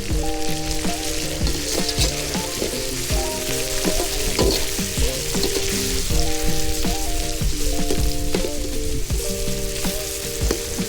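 Tomatoes and rock salt fry steadily in a pan over a charcoal fire at a village cookout, a dense, continuous sizzle with occasional stirring scrapes and crackles, fairly loud and close, with no talking.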